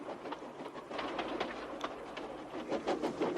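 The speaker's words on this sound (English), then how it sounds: "he was pulling a dirty freight train" A steam locomotive hauls a dirty freight train, giving a steady rhythmic clatter of wheels and cars that runs throughout at moderate loudness with no voices.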